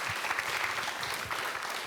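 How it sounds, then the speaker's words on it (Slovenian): Applause for the second-placed primary school team, OŠ Breg Ptuj, at a school cup-stacking competition: a short, steady burst of clapping from a modest crowd, even and fairly close throughout. "še prej pa en velik aplavz drugo uvrščenim"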